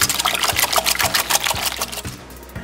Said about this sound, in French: On va fouetter jusqu'à ce que le sucre soit fondu.